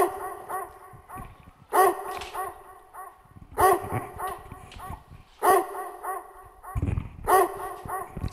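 A fake, artificial dog bark, several loud, close yapping bursts spaced a second or two apart, with quieter whimpering sounds between them and no speech over them.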